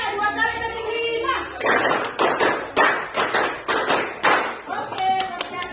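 A classroom of students claps in unison in a rhythmic pattern, about a dozen sharp group claps in quick beats after a stretch of voices speaking, close and loud.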